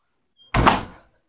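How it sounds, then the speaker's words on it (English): A car door shuts with a single solid, muffled thunk, close and fairly loud, followed by silence. "First, I need to close the door."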